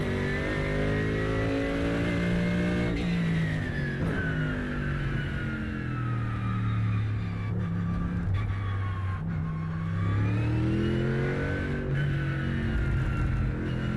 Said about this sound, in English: As long as I can hear the rumble strips,